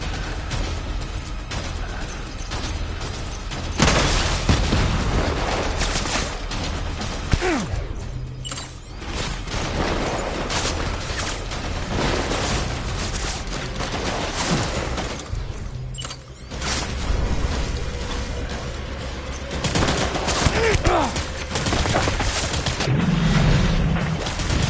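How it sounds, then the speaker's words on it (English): Sustained barrage of gunfire and booming blasts in the video game Death Stranding, dense and loud throughout with mechanical clatter, without clear voices. "Open fire."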